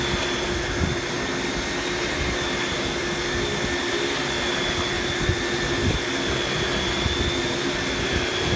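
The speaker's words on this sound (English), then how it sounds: "the Powerhead sounds pretty good" A Kenmore Powermate canister vacuum cleaner with a powerhead runs steadily and loudly throughout, a constant droning whine with a broad rushing airflow noise.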